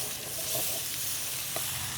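Shrimp sizzle and hiss in a hot pan in a Thai kitchen, a close continuous fry with a few soft stirring clinks.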